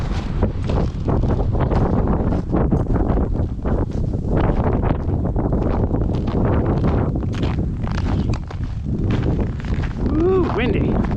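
Strong wind roars and buffets the microphone during an Alaska windstorm in snowy surroundings, loud and continuous for the whole stretch with gusting surges and no clear pauses.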